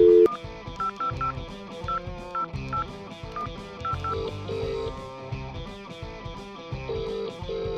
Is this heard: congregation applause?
no